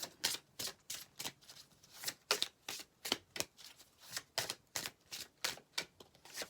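Tarot cards shuffled by hand for a daily reading, a steady run of quick riffling slaps repeating about twice a second, close and soft, with no voices over it.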